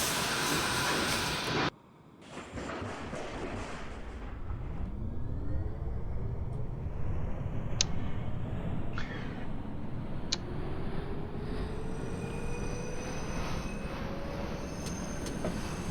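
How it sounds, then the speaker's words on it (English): An R-28 Redbird subway train on the Z local line runs in the OpenBVE simulator, a continuous rumbling drive with rising motor whine and rail squeals, starting with a brief burst of hiss before the steady run. "This is a Brooklyn-bound Z local train."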